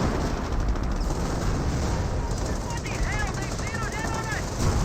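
Dense, continuous battle noise from a Company of Heroes match, steady rumbling gunfire and impacts as tank forces advance, loud and unbroken, with a commentator talking over it.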